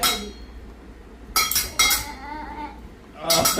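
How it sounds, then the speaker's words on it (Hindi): A spoon tapped against a glass as makeshift music, bright clinking bursts in separate clusters with quiet gaps between, close and loud with no voices. "इनका एक अलग ही म्यूज़िक है, गिलास और चम्मच वाला"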